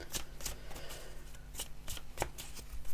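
Oracle cards being shuffled in the hands, a run of crisp riffling flicks and soft slaps repeating close up, with no talking.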